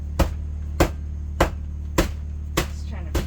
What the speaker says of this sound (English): Just trying to break off some little strawberries.